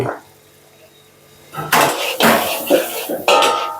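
Chicken curry puff filling being stir-fried in a pan, with loud metal spatula scrapes and clatters against the pan coming in bursts after a quiet start, while a voice talks briefly.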